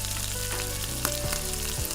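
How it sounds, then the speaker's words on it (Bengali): Sliced onions fry steadily in hot oil for biryani beresta, a close, constant bubbling sizzle with faint stirring clinks and a low hum underneath; no voices are heard. "বেরেস্তা পেঁয়াজটা ভাজে নিব"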